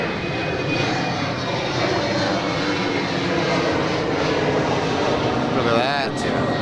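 An aircraft takes off at Adelaide Airport, its engines producing a loud, sustained roar that holds steady and then shifts slightly in pitch as it passes, with a voice talking over it.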